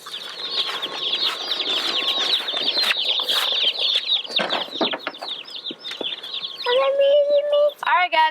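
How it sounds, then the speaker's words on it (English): A flock of forty young meat-bird chickens on a homestead cheeps densely and continuously, close by, with a few louder single calls toward the end. "here they are, our 40 meat birds"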